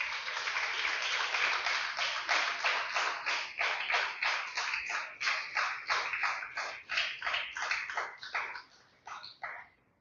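A church congregation claps for about ten seconds in a loud, rhythmic burst of fairly even, repeated claps that thins and trails off at the end.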